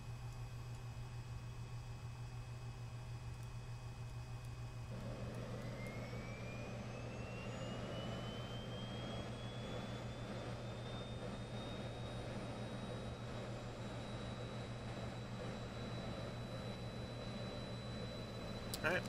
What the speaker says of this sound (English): we'll go ahead and start the engines.